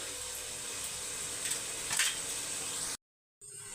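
Pulao ingredients with green chillies being mixed and sautéed in a pan give a soft, steady frying hiss with faint stirring, then a brief dropout of silence before the sizzle returns.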